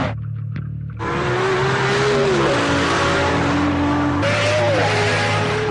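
A sports car accelerates hard after a brief quieter opening, its loud revving engine climbing in pitch, easing back, then surging again, with a rushing near-field roar and no voices.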